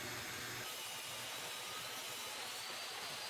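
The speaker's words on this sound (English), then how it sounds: "For a final cleanup, I'm using the table saw for the long edges" Table saw trimming the long edges of a wooden cutting board in a workshop, a continuous loud whining buzz of the blade biting through wood, close and steady with no talking.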